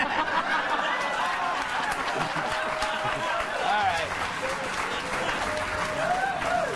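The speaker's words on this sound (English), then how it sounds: "I'm not listening to your clapping." A studio audience claps in a sustained, fairly even round of applause, moderately loud, with a voice talking over it.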